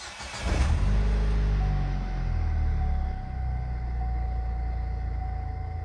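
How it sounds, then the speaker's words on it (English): A 2007 Pontiac Solstice engine cranks and catches with a loud burst, then settles into a steady close idle that dips and recovers, with a faint whine running over the running engine. "now we're going to go start the car in just a moment and run it out of fuel to our fuel rail"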